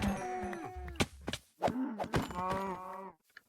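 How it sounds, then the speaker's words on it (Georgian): Brown cows in the video game Minecraft give several drawn-out, harmonic moos, loud and close, separated by short thuds and gaps with no talking. "ყავისფერ ძროხები ვიპოვე"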